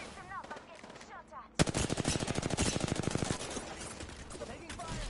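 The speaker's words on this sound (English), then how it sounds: "Listen up, I'm getting shot" Rapid automatic gunfire in Apex Legends bursts in suddenly after faint game sounds and a short voice, rattling loud and close for about two seconds before fading into lingering noise.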